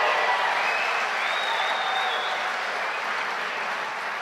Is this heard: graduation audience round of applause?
yes